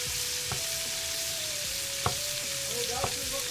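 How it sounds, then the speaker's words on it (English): Skewers sizzle and fry steadily in a hot pan, with a continuous crackling hiss, a faint whistling tone and a few sharp clinks of utensils against the pan. "we're gonna let that sizzle away"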